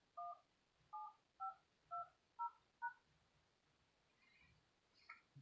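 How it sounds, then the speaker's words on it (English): Telephone keypad DTMF tones punch in a phone number, six clear, evenly spaced beeps close up, followed by a few faint clicks and no talking. "please enter your phone number, starting with the area code, followed by the pound sign."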